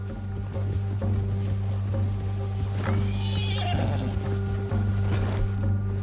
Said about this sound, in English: You got a problem with that horse?